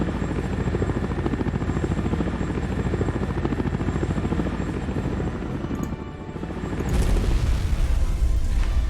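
Helicopter rotors thrum steadily in the Shattered Union strategy game, joined near the end by a louder burst of booming explosions.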